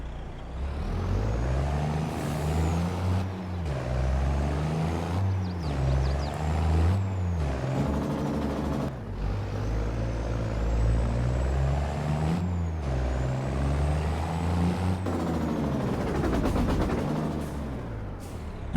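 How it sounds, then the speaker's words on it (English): A Volvo truck with a Detroit engine runs steadily for a long stretch, its deep engine drone rising and falling as the revs change, broken by sharp hissing bursts from the brakes. "And lastly, we have a Detroit powered Volvo here."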